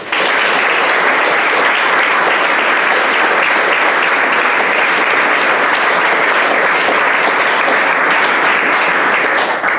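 Audience applause welcoming a professor at a NATO-Russia debate event, a steady dense clapping from a full room that stays loud and even for about ten seconds, with no speech over it.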